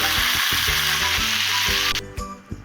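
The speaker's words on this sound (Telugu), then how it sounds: "తర్వాత ముందుగా శుభ్రం చేసుకున్న గోంగూరని ఆయిల్లో వేసుకోవాలి" Cleaned gongura leaves dropped into hot oil in a pan give a loud, dense sizzle that holds steady, then drops sharply and trails off into a few softer crackles near the end; no speech.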